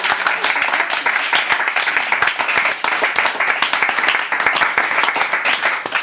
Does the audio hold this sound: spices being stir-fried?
no